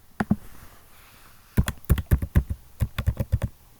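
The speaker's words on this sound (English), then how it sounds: "Why do I keep on typing in too many O's?" Quick keystrokes on a computer keyboard: two taps, a pause, then a rapid run of about a dozen crisp clicks, close and clear with no voices.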